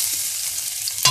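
Minced garlic frying in a pan gives a steady, close sizzling hiss, ending with a short clatter of stirring.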